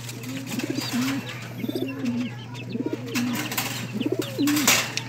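Young pigeon cooing in four repeated phrases, each a rising-falling warble, close and clear over a steady low hum, with faint chirps from other birds in the background.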